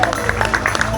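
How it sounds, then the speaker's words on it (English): Audience applause at a wildlife park show, a short burst of scattered claps blended with crowd noise and steady background hum, moderately loud throughout. "Give a round of applause."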